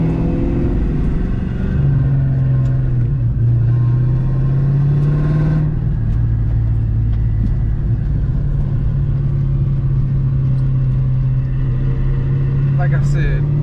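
A 1996 Ford Mustang GT with a freshly swapped engine cruises around the block, a steady, loud engine drone that holds for most of the ride, with a brief rise in revs early on and some speech-like sounds mixed in.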